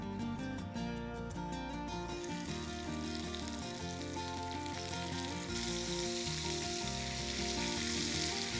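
Marinated prawns for biryani sizzling in a hot pan, a continuous crackling fry heard close and alone, with faint tonal music in the background.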